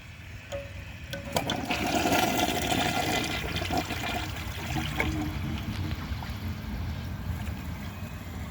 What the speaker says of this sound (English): For some reason the water didn't fill as high.